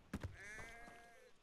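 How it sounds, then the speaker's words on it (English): Sheep bleats from the video game Hogwarts Legacy: a quick pair of low thumps, then a single wavering, moderately loud bleat with a drawn-out tail, heard alone. "Sorry about that, sheep."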